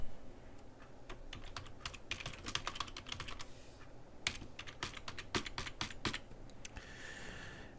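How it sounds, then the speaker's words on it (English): Rapid typing on a computer keyboard, close clicking keystrokes in uneven bursts with short pauses, over a low room hum. "my typing is horrible tonight"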